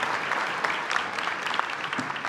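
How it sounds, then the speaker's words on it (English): Audience applause fills a hall at a regional State of the Region event: dense, steady clapping from a crowd, close and fairly loud, holding for a couple of seconds without any talk. "Let's give another round of applause for Andy Berke."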